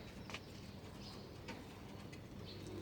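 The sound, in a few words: pet pigeon cooing in its cage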